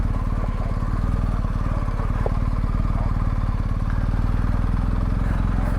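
A BMW 1250GSA motorcycle idles along on the clutch with no throttle, its steady low engine thrum close and continuous throughout.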